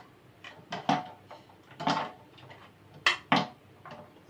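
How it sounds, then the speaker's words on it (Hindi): Ice cubes clatter into a blender jar for a peach milkshake, a few separate clunks and rattles with small clusters of hard knocks spread over several seconds, close and fairly loud with no talking. "फिर इसके अंदर हम आइस क्यूब्स डालेंगे"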